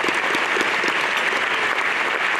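Dense crowd applause at a chamber of commerce awards evening for wine and liquor representatives, loud and continuous throughout with no talk over it.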